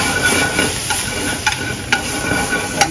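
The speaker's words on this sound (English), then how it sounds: "I'm gonna put a sizzle there." Broccoli sizzles and hisses steadily in a hot pan, with a few sharp clicks of stirring or scraping now and then, close by and without speech.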